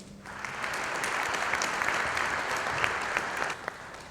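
Audience applause greets a panelist introduced as a CEO at a business panel event, a steady dense clapping that fills the room for about four seconds with a few sharper individual claps near the end.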